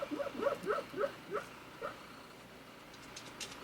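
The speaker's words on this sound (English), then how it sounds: "One of the dogs is having a puppy dream right now." A sleeping dog whimpers through a dream, giving a quick run of soft, high yips and whines that trail off into quiet indoor room sound, close and faint.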